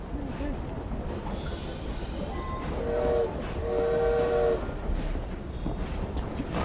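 A train rolls along in Assassin's Creed Syndicate, a continuous rumbling clatter of railcars with a brief horn or whistle blast sounding midway, while a person talks over the noise.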